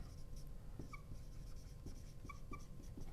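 Pen or marker writing notes during a biology lecture, faint scratchy strokes and small taps in a quiet room, steady and low in level.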